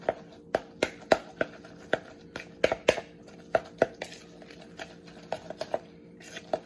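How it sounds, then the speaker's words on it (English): A spoon or utensil mixing deviled ham with mayonnaise in a bowl gives a series of soft irregular clinks and taps, close by and fairly quiet, with no speech. "I'm just mixing it all up to incorporate that mayonnaise"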